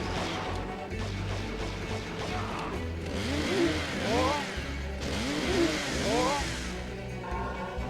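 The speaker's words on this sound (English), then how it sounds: "The chainsaw feels great to use" A chainsaw in the video game Evil Dead: A Fistful of Boomstick revs and whines in rising, repeated bursts amid crashing, smashing impacts, loud and up close with shifting engine pitch.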